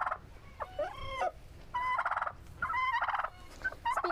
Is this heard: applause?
no